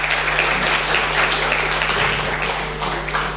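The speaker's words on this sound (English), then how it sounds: "Please applaud him" A conference audience at TuxCon 2014 in Plovdiv, Bulgaria, applauds to welcome a speaker: loud, dense clapping from a roomful of people, sustained over a low electrical hum.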